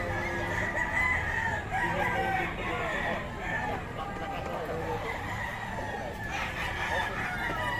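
A young rooster (stag) crows amid a busy, noisy background with faint voices. The calls blend into steady ambient clamor rather than standing out sharply.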